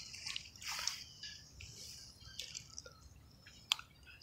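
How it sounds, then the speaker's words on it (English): Water splashes from fish jumping. The audio is quiet and outdoors, with several separate hissy splashes and drips spread unevenly over a few seconds and one sharp splash near the end. "The splashing in the water from fish jumping."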